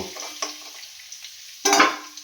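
Potato pieces fry in hot oil in a pan, giving a close crackling sizzle that swells into louder bursts near the end, with a brief quieter stretch in between.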